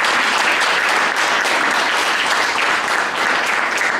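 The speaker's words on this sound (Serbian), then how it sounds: "Ovo je da, aplauz za Radoša" An audience at a poetry gathering claps steadily and loudly, a dense even wash of applause from a room full of listeners without a break.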